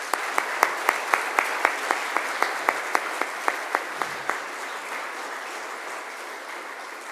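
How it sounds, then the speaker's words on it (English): Applause at an ashram satsang gathering in Fiji honoring founding trustees: sustained crowd clapping throughout, with a few sharp, loud individual claps standing out rhythmically over the dense wash in the first few seconds. "show our deepest gratitude to our dear founding trustees with a thunderous round of applause"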